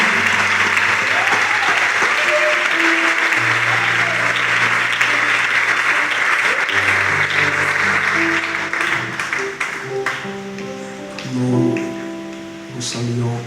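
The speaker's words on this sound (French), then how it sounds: "Est-ce qu'on peut encore acclamer le Seigneur?" A church congregation at a tabernacle in Pointe-Noire applauds loudly and continuously, with steady dense clapping that thins out near the end while music and cheering voices rise underneath.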